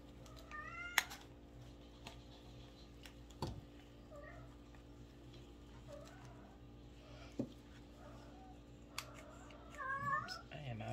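A cat meows indoors in a room, several faint scattered meows at a distance over a quiet background with occasional small knocks.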